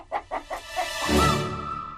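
A hen clucking close by in a short series of three or four sharp clucks, followed by a longer drawn-out squawking call, fairly loud with no talking over it.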